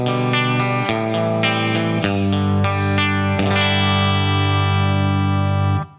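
A Telecaster with Burgerman pickups runs through an Origin Effects Cali76 limiting amplifier into a clean Laney VH100R, strumming chords with a wide, even, compressed sustain that holds steady before a quick cutoff, with no talk.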